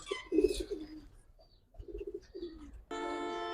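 A female Giribaz pigeon, agitated at being held in the hand, gives two short bursts of close, throaty cooing separated by a pause, followed by a steady buzzing tone.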